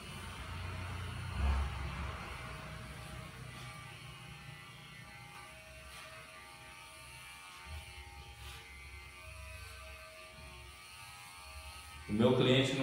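An electric hair clipper used like scissors to cut a client's hair in a barbershop: a steady, moderate motor buzz throughout, under occasional talking.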